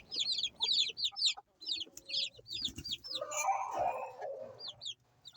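Chickens cluck and chirp in quick repeated bursts, with a louder squawk midway and low farmyard rumble beneath, fairly close.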